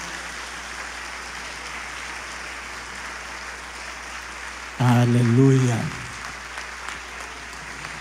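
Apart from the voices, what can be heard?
congregation clapping in praise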